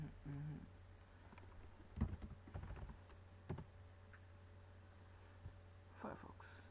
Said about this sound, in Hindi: तो गूगल में जाके टाइप करेंगे फायरफॉक्स फॉर रेडहैट